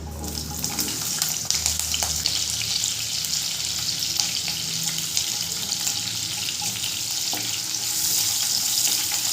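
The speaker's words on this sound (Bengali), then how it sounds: "এরপরে দিয়ে দেবো কেটে রাখা পেঁয়াজটা।" Chopped onion fries in hot oil in a wok over a medium flame, a loud, steady hiss with faint stirring, close and continuous.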